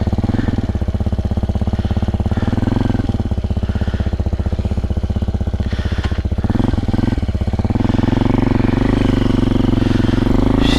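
A cold Amazon X-Pro motorcycle engine putters at idle with a steady rapid mid-pitched chug, revving up briefly around the middle and settling into a louder, fuller idle toward the end.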